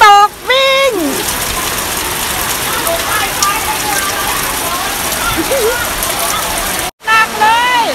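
Steady rain falls during Songkran water festival celebrations at a Thai temple in Panama City, Florida, a loud, continuous hiss with voices heard briefly at the start and again at the end.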